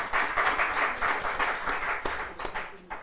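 Audience applause for performers at a live music show, a dense sustained wash of clapping from a nearby crowd that swells and then thins out toward the end.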